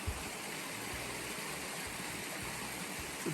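A creek in a Utah canyon along the Salt Creek trail flows steadily below, a faint, even rush of water with no break and no voices.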